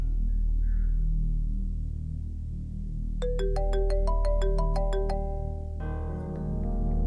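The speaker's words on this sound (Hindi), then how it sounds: "जूबी प्लीज कॉल करो ना।" A phone ringtone starts partway through, a quick ascending series of bright electronic beeps followed by a chiming melody, over a low steady background hum.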